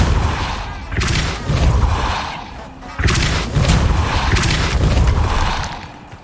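Repeated Depulso force-push spell casts in Hogwarts Legacy, several deep booming blasts with bright crackling bursts, loud and close, in quick succession.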